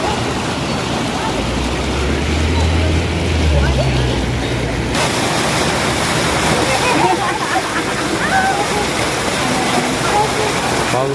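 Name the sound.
park fountain water falling like a stream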